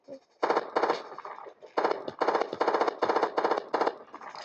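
Rapid bursts of gunfire from tanks and guns in a video game, with several dense volleys of about half a second to a second each separated by short gaps, loud and close.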